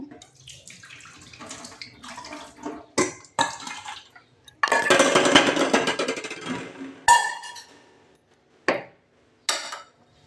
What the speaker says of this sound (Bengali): এবারে ডিমগুলো আমি ঠান্ডা জলে দিয়ে ছাড়িয়ে নেব।